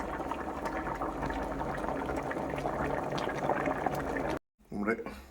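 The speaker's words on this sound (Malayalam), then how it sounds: "മീൻ തിളച്ചു." Sardine fish curry bubbles steadily in a lidded pot, a continuous close simmering and boiling sound under a voice, which stops abruptly near the end before a brief rustle.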